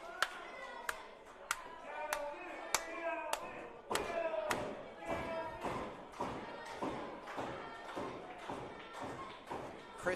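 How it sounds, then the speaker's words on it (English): Sharp repeated bangs on the boards at a wrestling ring in a live wrestling show, struck in a steady rhythm, with crowd noise and voices underneath. "the chef over here, banging the boards"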